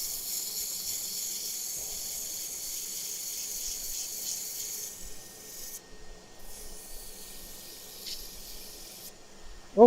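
A wood lathe runs steadily while sand-inlaid work is sanded, producing a continuous close hissing, rasping rub over a low motor hum that fades slightly near the end before a brief knock.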